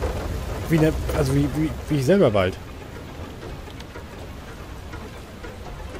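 Hail and rain pour steadily over the wind-powered land vehicle in the game FAR: Lone Sails, a broadband patter continuing under someone talking and then alone.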